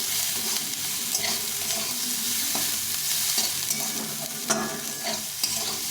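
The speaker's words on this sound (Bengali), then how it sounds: "এই তেলটা গরম হয়ে গেছে এখন এটার সঙ্গে এগুলো ভালো করে ভেজে দিতে হবে" Potato, onion and bottle gourd peel fry in hot mustard oil with a steady, close sizzle. Occasional scraping and stirring sounds come from the pan.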